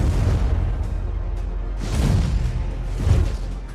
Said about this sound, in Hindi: on the other side Akira देखता है कि एक बड़ा धमाके की वजह से पूरा ग्राउंड तबाह हो गई